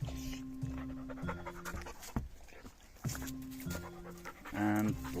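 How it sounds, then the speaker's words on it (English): A dog pants rapidly and rhythmically close to the microphone, quick breathy huffs repeating throughout with brief pauses, faint background sound in between. "There's another dog coming."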